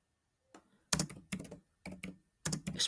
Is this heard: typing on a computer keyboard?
yes